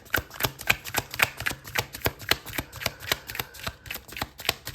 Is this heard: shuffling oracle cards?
yes